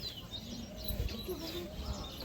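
Tippler pigeons, including Madras tippler hens, give soft, faint calls and chirps close by, mixed with quiet talking.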